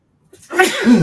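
A single loud, close human sneeze bursts out after a brief quiet moment, with a sharp breathy onset and a voiced tail.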